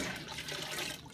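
Tap water pours to top off two gallons of homebrew beer water, a close, dense rushing flow that stays steady for about a second.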